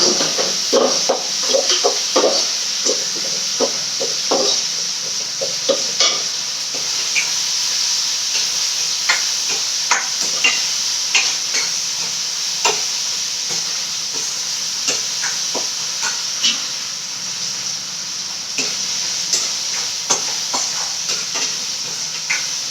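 Tomatoes and salt sauté in a pan for a karuvadu egg thokku, a soft continuous sizzle and hiss broken by frequent sharp clicks and scrapes of a spatula stirring, close and without talk.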